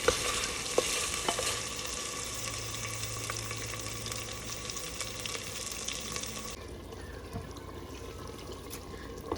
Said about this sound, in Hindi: चलें जी, चिकन फ्राई